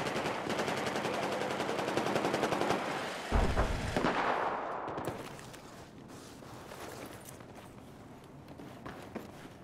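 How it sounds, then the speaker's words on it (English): Battlefield 4 video game gunfire, a dense rattle of rapid shots with a heavy blast near the middle, then thinning to scattered distant shots. "Is that you shooting?"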